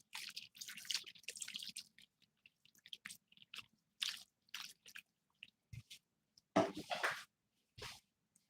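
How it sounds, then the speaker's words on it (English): Water poured and dripping into a pot while cooking fufu, heard as short splashing, dripping bursts spread through the stretch, fairly close, with quiet gaps between them and no talk. "Next, we're going to add in some water."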